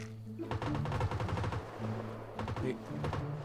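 Bursts of rapid gunfire in the battle royale game PUBG Lite, repeated quick shots in several volleys with background game tones in between.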